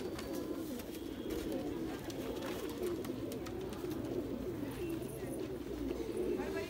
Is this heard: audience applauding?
no